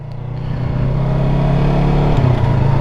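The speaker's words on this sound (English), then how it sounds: "Let the clutch in, click down to first, give it gas, let the clutch out." A motorcycle engine revs up and holds a steady, loud drone close by as the rider clicks down into first gear and pulls away, with no talking over it.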